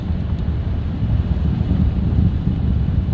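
A 2008 Chevy Colorado with an overheating problem cruising fast at about 60 mph, heard as a steady low road and wind roar from inside the cab, rumbling continuously with no talk.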